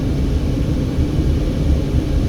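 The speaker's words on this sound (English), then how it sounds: "there's a tourism helicopter up there in the sky" A low, steady engine rumble drones from a tourism helicopter flying high overhead near Hoover Dam, a constant broadband roar with no other sounds.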